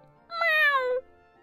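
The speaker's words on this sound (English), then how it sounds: "He'll go like, meow, meow, meow," A small male cat gives a single drawn-out meow, close by and clear against a quiet room.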